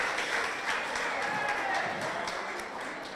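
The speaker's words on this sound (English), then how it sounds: "Can we get a big round of applause for them, please?" Audience applause at a film festival kickoff event, a dense, even wash of clapping from a crowd heard at a moderate distance, holding steady throughout.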